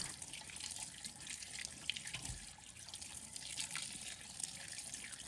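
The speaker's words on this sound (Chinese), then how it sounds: "所以要先用流动的清水仔细冲洗" Tap water runs steadily over a yam being rinsed clean of soil, a soft continuous splashing patter with small drips, fairly faint and without voices.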